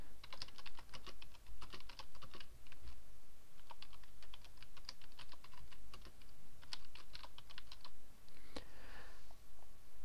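Typing on a computer keyboard in rapid bursts of quiet, crisp key clicks with short pauses between runs, close and alone in a quiet room.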